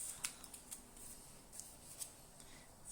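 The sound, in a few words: scissors snipping ends off card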